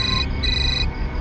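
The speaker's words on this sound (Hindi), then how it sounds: "एक मिनट, फोन। किसका फोन है?" Electronic phone ringtone rings out in a domestic drama scene: two bright, repeating tonal bursts, the second longer, close and fairly loud over a low background hum, with no talking.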